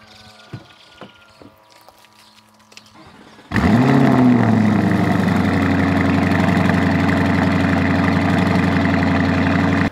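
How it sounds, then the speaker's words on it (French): A Lamborghini Urus V8 with an Akrapovic exhaust fires up from a cold start after a few quiet clicks, the loud bark settling straight into a deep, steady, high idle that fills the rest of the recording. "chaque matin, j'avais le plaisir de le démarrer en cold start. C'est juste vraiment avec l'échappement Akrapovic."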